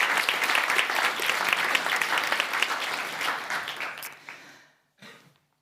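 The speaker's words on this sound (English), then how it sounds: "it's also a great round of applause for those who are presenting it" At the opening session of a conference, an audience bursts into loud, sustained applause for the presenters, which thins over four seconds and ends with a last few isolated claps.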